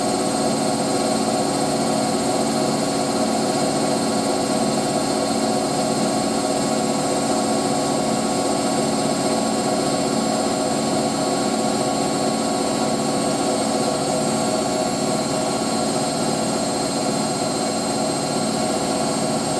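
A 1986 Hotpoint 9530 Electronic 1000 Plus washing machine spins a load of towels at 1000 RPM, giving a loud, steady whirring roar with a constant hum that holds evenly throughout, with no talking.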